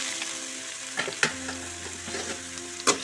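Onion and curry leaves fry in a pan with a steady moderate sizzle, broken by a few sharp scrapes and taps of a stirring spoon, with a low hum in the background.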